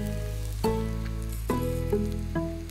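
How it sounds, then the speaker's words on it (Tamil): Urad dal and cumin seeds roast in a pan with a steady sizzle and crackle, broken by a few scraping strokes of a spoon and a persistent low hum underneath. "உளுந்து கொஞ்சம் வறுபட்டுட்டே இருக்குது, இந்த ஸ்டேஜில் சீரகத்தை சேர்த்தோம்"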